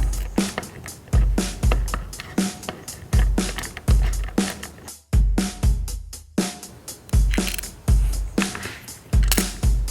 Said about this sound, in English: We're going to go ahead and use one of these under each caster and just thread them right into the frame.